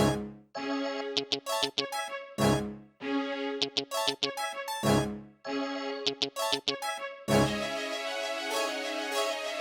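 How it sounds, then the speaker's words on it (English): Plucked and short bowed string notes layered in a bouncy repeating pattern, phrases stopping briefly before a final sustained bowed chord. "I've also paired this with a string staccato on the next track."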